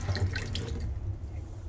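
Brief watery trickle and drips from a tap in a horror video game, a few close splashy drops at the start fading to a faint wash.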